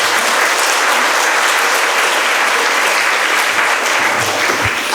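A church congregation claps in welcome for a guest speaker, producing dense, loud, sustained applause from a crowd that stays steady throughout.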